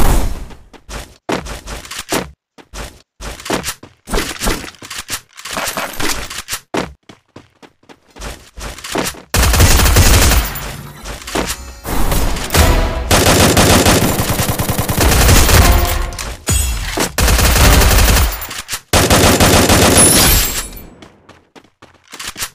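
Loud, rapid gunfire in the Free Fire battle royale game, short bursts of single shots early giving way to long sustained automatic volleys, close and dominant with almost no talk.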